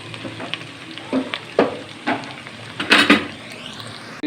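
Onions frying in a pan for aloo matar pulao, cooked to a medium brown, give a steady sizzle with several louder crackling bursts as they are stirred, close up and with no talking.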